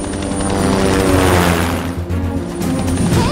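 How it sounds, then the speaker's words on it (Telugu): A loud helicopter thunders close by, rotor chop and engine whine swelling and shifting as it comes down to land on a road. "రోడ్డు మీద హెలికాప్టర్ దిగుతోంది."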